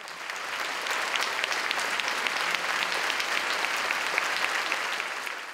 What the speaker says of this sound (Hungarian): Csak a zenemű végső befejezése után jön a taps